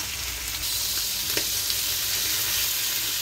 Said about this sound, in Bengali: মাছটি বাজিয়ে নেব, কারণ এই বেগুনটায় মাছ দিয়ে রান্না করবো